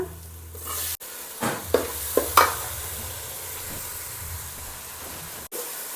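Tomatoes go into a pan of onions, ginger and garlic frying in oil, giving a steady close sizzle broken by a few sharper spits and bursts, with stirring scrapes running throughout.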